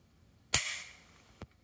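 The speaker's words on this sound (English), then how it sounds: "I shoot it with single action." A single pistol shot fired in single action at an outdoor range, one sharp close crack with a short tail, followed by a faint second click or report.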